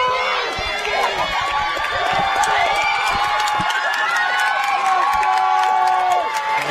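Soccer crowd cheering, whooping and shouting during the second overtime of a men's college match between JWU and John Wesley, loud excited voices rising and falling with chants and calls close by.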